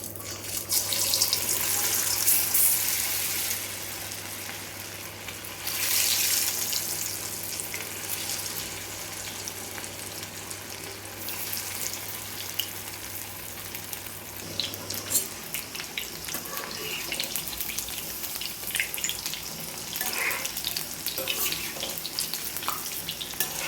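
Marinated chicken pieces for chicken 65 dropped one by one into hot oil in an iron kadai, a strong hissing sizzle with louder surges as pieces go in, settling into a steady crackle.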